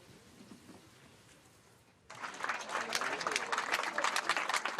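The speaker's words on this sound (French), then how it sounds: "Une pluie d'applaudissements avant d'être tout de suite pris d'assaut" At a stadium in La Roche-de-Glin in the Drôme, a quiet, murmuring stretch gives way abruptly to a loud wave of crowd applause greeting decathlete Kevin Mayer, which keeps swelling to the end.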